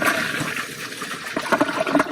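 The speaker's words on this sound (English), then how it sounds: "Okay, that's one flush." Toilet flush washing chocolate syrup down the bowl in a plumbing test, a loud continuous rush of water with gurgling swells toward the end, heard alone without speech.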